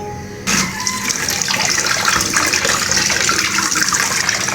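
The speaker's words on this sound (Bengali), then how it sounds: "এখন ধুয়ে নিচ্ছি যাতে গলাটা না চুলকায়" Salted mankochu, giant taro, being washed under running water: a tap gushes on abruptly after a brief pause and keeps pouring steadily and loudly close by, with splashing as the pieces are rinsed; no talking.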